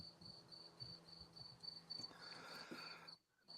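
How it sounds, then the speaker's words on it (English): Crickets chirp in a steady, pulsing high trill that keeps repeating, fairly loud and close over a low, quiet background hum, cutting out briefly near the end. "Listen to those crickets."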